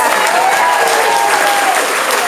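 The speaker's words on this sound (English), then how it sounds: "Let's give them a big round of applause." Steady audience applause rises from a crowd on a Disney Hollywood Studios backlot tour, dense and even throughout, with a faint voice in the mix.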